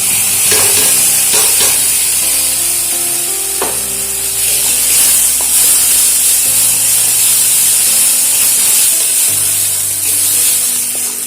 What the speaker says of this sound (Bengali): মশলাটাকে আগে একটু ভেজে নিচ্ছি। মশলাটাকে কষিয়ে নিলাম।